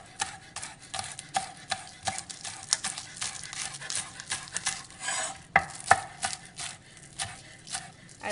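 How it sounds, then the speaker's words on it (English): A knife chops scallions on a cutting board for pasta salad in a steady, rhythmic series of crisp taps, close and clear, with a few louder thunks near the middle. No talking is heard. "I'm gonna chop off these in here. Now I'm just gonna run your knife through them."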